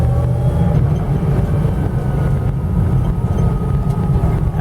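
Deep, rumbling 440 V8 of a 1977 Dodge Ramcharger crawling in low-range four-wheel drive, a loud steady low-pitched engine drone close to the listener with no voices.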